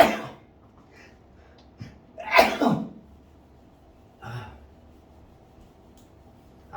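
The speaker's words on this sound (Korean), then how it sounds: "아까 36번 할 때 재채기를 참았거든." A single loud sneeze bursts out mid-lesson after being held back, preceded by a sharp intake of breath and followed by a fainter sniff or second short burst, in a quiet room with no talking.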